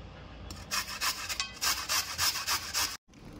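Unpeeled potatoes are rubbed against a grater in about eight quick, close scraping strokes, each a bright, raspy swish with brief gaps in between.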